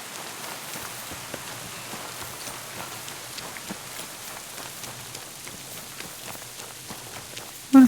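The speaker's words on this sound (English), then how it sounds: "I don't mind a bit of rain, but there's got to be a limit." Steady rain falls in the medieval world of Kingdom Come: Deliverance II, a dense even patter of drops with faint clopping underneath, ending in a brief louder thump.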